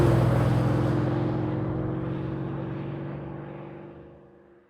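Car playing an artificial air-cooled engine sound through its speakers, a loud steady whirring drone with a low rumbling hum that slowly fades over several seconds, heard alone.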